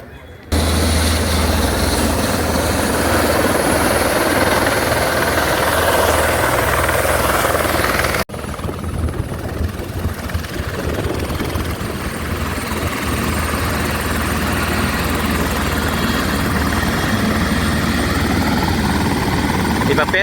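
A tourist ride helicopter on the ECR near Chennai, its loud, steady rotor and engine roar close by and continuous throughout, with the tone shifting sharply partway through, and no talk in the clip.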